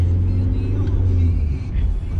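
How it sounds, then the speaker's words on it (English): A Volkswagen Caddy 4x4 diesel engine runs with a loud, steady low rumble heard from inside the vehicle, with speech over it. "You can smell this is a diesel, and it's much more noisier than the cars that we've driven today"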